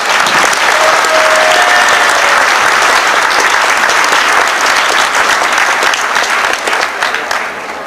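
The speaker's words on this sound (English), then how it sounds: "So let's give Chuck a round of applause, folks." An audience at a Sun City 30th anniversary event gives sustained, loud applause for a developer, tapering slightly toward the end.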